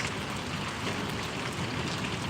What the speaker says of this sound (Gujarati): પુષ્કળ પ્રમાણમાં વરસાદ આવે છે એવું લાગે